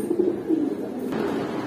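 At a pigeon farm keeping highflyer pigeons, a close, low coo swells twice in quick succession, then fades into soft background rustle.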